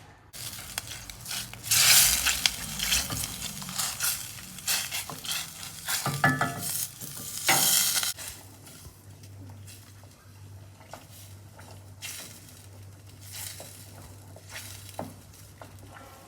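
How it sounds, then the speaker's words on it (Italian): Water in a pot heating and bubbling, with loud sizzling and stirring scrapes early on that settle into a steady, quieter simmer. "dobbiamo aspettare che l'acqua inizia a bollire"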